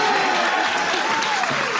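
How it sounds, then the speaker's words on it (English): A live debate crowd breaks into loud, dense applause, the clapping sustained throughout with a faint murmur of voices beneath it. "Applause for that."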